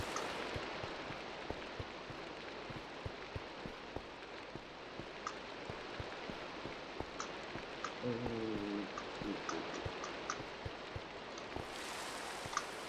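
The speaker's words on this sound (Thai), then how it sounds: "ฝนตกแบบนี้น่ากลัวนะผม" Steady video game rain in Minecraft, scattered drops pattering on surfaces, a continuous wash of noise at moderate level, and faint tonal blips near the end.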